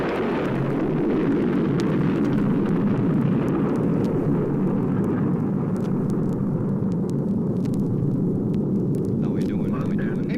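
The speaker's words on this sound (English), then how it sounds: "The big moment is at hand, and the blast-off is only seconds away." A cartoon rocket blasts off with a continuous, dense, rumbling roar that holds steady and loud from start to finish.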